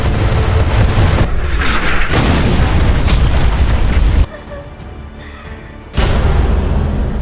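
Film soundtrack of a ship packed with explosives blowing up in a naval battle, with heavy booming blasts and roaring rumble, a sudden drop to quieter sound, then another loud burst.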